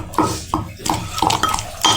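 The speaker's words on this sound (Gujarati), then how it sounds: "આ રીતે ખાંડી લેવાનું" Red chilli chutney with salt and coriander being pounded by hand, a run of sharp knocks and clinks falling in an uneven rhythm, close and loud, with no talking.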